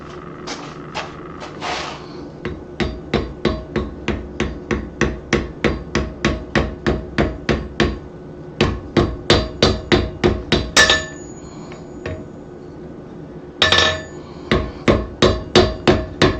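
Steady hammer blows on hot metal while forge welding a round privet bell, struck in rapid even runs of ringing, close and loud, with short pauses between bursts.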